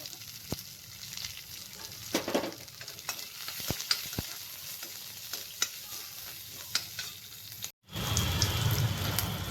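Onions and green chilies frying with urad dal in a pan, a steady close sizzle with scattered stirring clicks and a brief cut before louder frying resumes.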